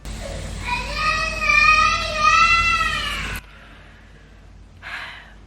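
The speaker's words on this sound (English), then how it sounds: "There's a child crying." A child cries in a sustained, wavering wail for about three seconds at moderate loudness, then stops abruptly. A short, soft rustle follows in a quiet room.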